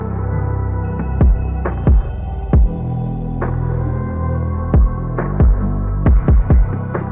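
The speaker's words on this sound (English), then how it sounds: "I just went ahead and added a kick, which is the simple kick from my kit" A simple kick drum from a kit in FL Studio hits in a sparse pattern over a sustained low synth bed, including a quick triple-kick figure, each thump loud and punchy with a booming low tail.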